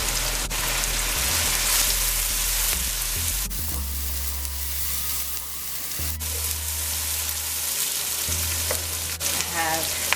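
Guyana black shrimp frying with onion, red peppers and garlic in oil, a loud steady sizzle filling the whole stretch, with bursts of stirring and a spatula scraping now and then.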